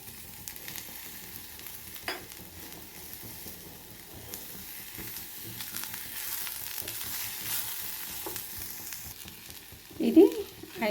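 Coriander, coconut and other chutney ingredients fry in a pan with a faint, steady sizzle, stirred occasionally, with a few louder clinks near the end.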